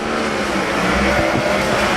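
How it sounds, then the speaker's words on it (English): AMSOIL USAC/CRA sprint cars roar off turn two at Arizona Speedway during a heat race, six engines blending into a loud, sustained droning snarl with slight pitch swells as the pack passes. "The AMSOIL USAC CRA sprint cars, and all 6 drivers right now work their way off a turn at number 2 there."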